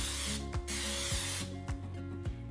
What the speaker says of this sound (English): We're gonna add a little bit of spray oil just to make sure that it doesn't stick.